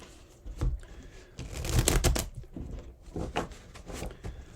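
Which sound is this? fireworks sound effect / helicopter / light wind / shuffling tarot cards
shuffling tarot cards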